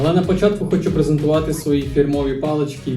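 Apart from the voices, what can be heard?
No distinct noise like a dog, phone or traffic.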